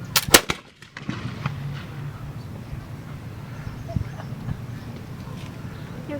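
A musket fired in an outdoor Army-style demonstration at Fort Niagara gives one loud, sharp blast at the very start, followed by steady open-air ambience with faint background sounds.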